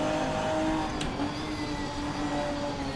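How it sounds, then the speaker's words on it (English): Ginetta GT4 race car in the Assetto Corsa racing game with a steady, high transmission whine riding over a continuous engine drone, constant and loud throughout with no voices. "We've got the transmission whine."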